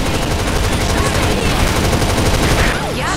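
Dense, continuous rapid gunfire from infantry weapons in Earth Defense Force: World Brothers 2, loud and close with no break, layered over busy game effects.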